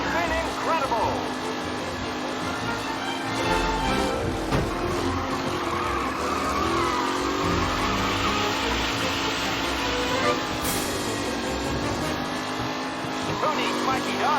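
Race cars in the Mafia Definitive Edition game roar around a track with constant engine whine, shifting pitch and tire skids, while a commentator's voice is heard over the racing.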